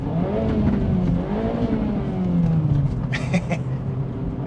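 A 2024 Acura Integra Type S engine revs in Sport Plus mode, loud and close, with rising and falling throttle sweeps ending in a short burst of crackling exhaust pops.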